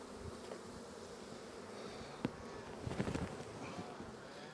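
Agitated honeybees buzz in a steady, faint drone over an opened hive during a strong nectar flow, with a few brief louder knocks and rustles of hive work near the middle.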